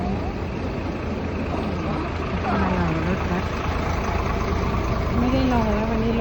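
A waiting bus engine idles with a constant low rumble, while faint voices talk intermittently in the background.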